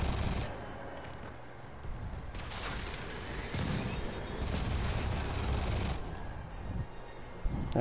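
Gunfire in Marvel's Spider-Man: bursts of rapid shots and booming impacts come and go under a busy game mix, loud and close, with short quieter gaps between volleys.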